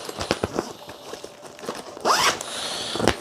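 A zipper on a guitar case bag for a Donner DJP-1000 guitar is pulled open in one quick, close, rasping zip, after some soft handling taps and rustles.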